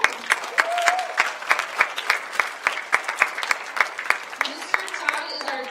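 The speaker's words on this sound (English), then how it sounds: "Clap for Mr. Todd." Sparse, distinct claps ring out at a school assembly as a staff member is welcomed up, individual hand strikes in an uneven rhythm, with some talking and murmuring among them.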